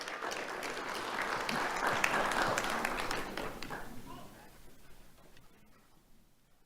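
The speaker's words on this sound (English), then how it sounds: "Let's have a round of applause for Alexandra and John." Applause from an awards-ceremony audience honoring two students, Alexandra and John of the Sanibel School, at the Do The Right Thing Awards; dense, steady clapping swells, then gradually fades away with faint voices beneath.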